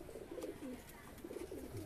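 Loft pigeons kept for high flying coo in a breeding coop, soft low rolling coos repeating in overlapping bursts close by, with faint rustling in the background.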